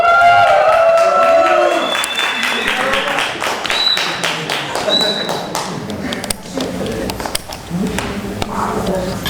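An audience at a storytelling contest claps in a sustained round of applause, dense and lively, with a presenter's amplified voice over the start.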